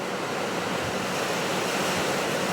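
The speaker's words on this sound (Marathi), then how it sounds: "हे बघा पूर्ण धक्क्याला पाणी पडत आहे." Heavy rain with big drops pouring in a dense, steady roar of broadband noise, loud and close, with no gaps or voices, in Chhatrapati Sambhajinagar.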